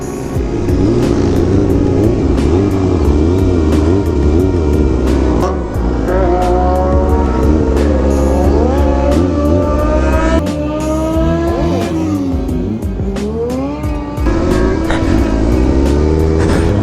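Kawasaki 636 stunt motorcycle with a tire at 60 PSI drifting, engine loud and constant with revs sweeping up and down throughout, close and alone with no talk.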